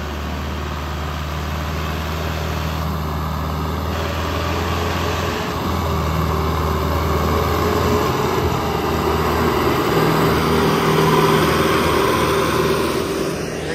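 A tractor engine runs continuously at high revs during mud-hauling work for a temple, a loud, steady drone that swells slightly in the second half with no talk over it.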